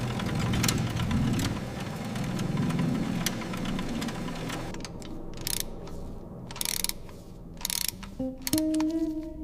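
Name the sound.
hoist lifting a Rolls-Royce engine block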